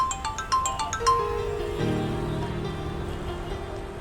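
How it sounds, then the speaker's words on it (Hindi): A phone ringtone chimes in a quick run of bright electronic notes, then gives way to a steady tonal hum that carries on to the end. "मम्मी का फोन आ रहा है"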